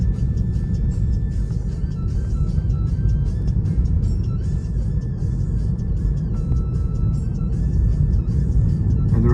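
A Tesla driving on Full Self-Driving through Belgium accelerates, its steady road and motor noise loud and close throughout, with faint electronic tones and no talking.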